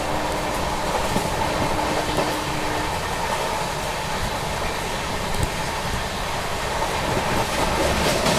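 The Netaji Express runs along the track with a steady, loud rumble and rattling wheel clatter, while the Nilanchal Express approaches on the opposite line. No voices are heard.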